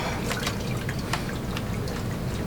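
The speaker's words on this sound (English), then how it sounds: "just going to run these through a strainer and see how" Pineapple chunks drain through a strainer in a kitchen, giving a soft, steady trickle with scattered light drips, faint and continuous without any talking.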